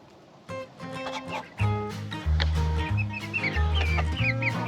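Chickens, including a rooster, cluck close by at a campsite in Alaska, with a steady stream of overlapping calls and squawks over a low rumbling background.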